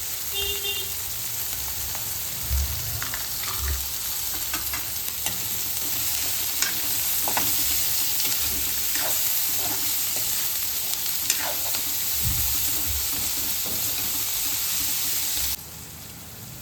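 Mixed vegetables stir-frying for hakka noodles in a hot pan, a steady sizzle with repeated stirring scrapes and clatters throughout, close and continuous, no talking.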